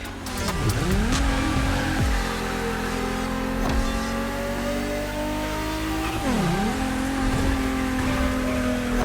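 A pumped-up Toyota Supra race car in The Crew Motorfest roars loud and close, its engine revving and dropping through repeated gear shifts, with brief tire squeal between surges.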